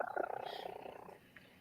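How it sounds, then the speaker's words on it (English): A Siamese cat purring close up, a loud, steady pulsing rumble with quick regular cycles that fades out near the end, with no talking over it. "That's my cat purring."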